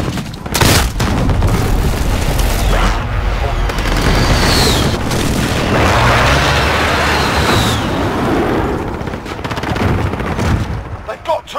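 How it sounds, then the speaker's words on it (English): Booming explosions from an enemy precision airstrike in the Call of Duty Modern Warfare game, loud and continuous with rumbling blasts and gunfire layered together and a voice talking over the din. "Enemy precision airstrike"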